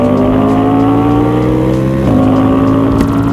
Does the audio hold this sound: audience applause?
no